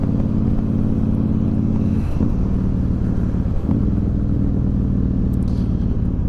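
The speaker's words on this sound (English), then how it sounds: "The exhaust on this thing sounds awesome. It is a Vance & Hines exhaust system, and it sounds really good. Nice and throaty like you want it to." A 2011 Honda VT1300X Fury cruiser motorcycle with a Vance & Hines exhaust system rumbles steadily at a low pitch while riding, with a deep engine drone and a couple of brief throttle shifts.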